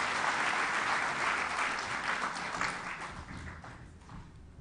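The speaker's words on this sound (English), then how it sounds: "Please give him a round of applause." Audience applause for the Minister of Trade and Industry at the opening of the 19th ARIPO session, a dense, steady wash of many hands clapping that slowly fades toward the end.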